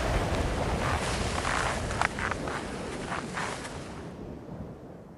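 Strong wind gusts roar high in the French mountains during a speed-riding outing on skis and wings, a loud, steady buffeting rush with brief surges that fades slightly near the end.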